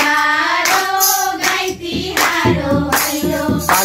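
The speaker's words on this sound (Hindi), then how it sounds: "ताली" Hands clap in a sharp, rhythmic pattern at a Diwali celebration during bhailoni folk singing, loud and close, with sung voices carrying a melody over the claps.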